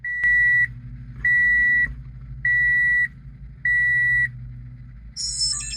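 Dashcam hardwired into a 2008 Toyota Matrix beeping as the ignition comes on: four evenly spaced, clear electronic tones, close and loud, followed by a brief higher chime, with no talk.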